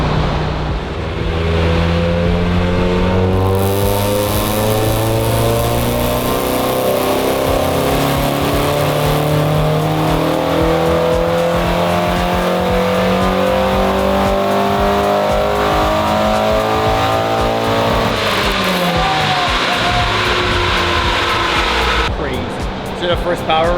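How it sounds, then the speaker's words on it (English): A 32-year-old NA6 Mazda Miata race car running Megasquirt engine management revs through its full range on a dyno, a loud, continuous engine note climbing steadily in pitch for about twenty seconds before dropping away. "It's really cool to hear the car rev like all the way through the rev range on a standstill."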